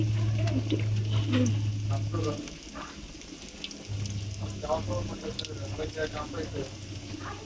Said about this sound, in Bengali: এখন আমরা এগুলো একটা একটা করে তেলে ভাজতে দিব